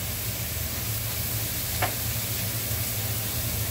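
Liquid fish sauce (patis) hits a hot pan with a loud, steady sizzle and hiss of frying, plus one brief sharp splash midway, close and alone without voices.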